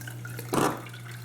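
Water briefly gushes over a gold miller table sluice, a short splashing burst lasting a fraction of a second against a steady low hum.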